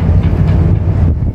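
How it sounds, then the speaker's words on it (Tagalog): Strong wind roars steadily across a large passenger ship, the Immaculate Star, sailing to Cebu, a loud dense low rumble with no voices. "So, napakalakas ng hangin."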